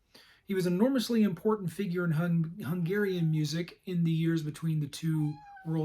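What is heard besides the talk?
cats meowing in the room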